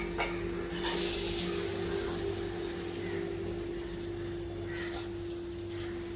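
Dal-khichadi mixture going into a pan of curry leaves, giving faint clatter and stirring with a little soft sizzle over a steady low hum, fairly quiet throughout.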